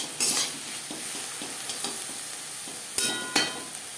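Prawns fry in a pan with a steady low sizzle, punctuated by several sharp scraping and clinking stirs, two of them louder near the end; no one speaks.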